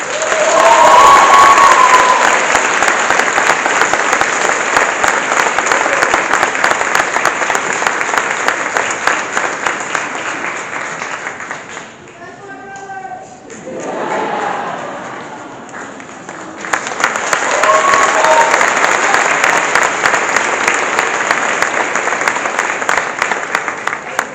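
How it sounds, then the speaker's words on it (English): A crowd at the Southampton Township Schools 2022 8th grade graduation applauds an award, with loud sustained clapping and some cheering that dips briefly midway, then swells back to full strength. "Let's have one more round of applause for all"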